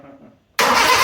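A Toyota Tercel 4WD wagon's swapped 4A-C engine cranks and fires with no exhaust hooked up: a quiet low rumble, a brief pause, then a sudden loud, raw, harsh roar that holds steady at close range.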